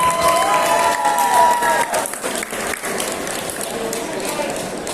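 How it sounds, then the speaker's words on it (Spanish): An audience at a Star Wars fan convention applauds and cheers for a lightsaber academy taking the stage, loud crowd clapping mixed with whistles and a rising tone, then fading toward scattered claps. "Un fuerte aplauso para ellos, por favor."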